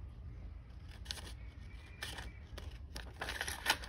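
Scissors snip paper for an envelope journal in a series of quiet, close cutting crunches, irregular and brief, with no talking.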